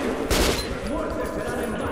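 A burst of rapid gunfire in the game Metro 2033 Redux crackles briefly amid a steady electronic background, with a sharp blast near the start.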